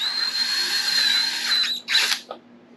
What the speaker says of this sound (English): I'm going to try to drill these holes just deep enough to recess the bolts